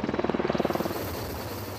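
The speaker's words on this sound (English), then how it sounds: "Helicopters are great for getting into parts of the country where there are no roads" A rescue helicopter flies close by, its rotor thumping in a fast steady pulse before blending into a continuous engine roar.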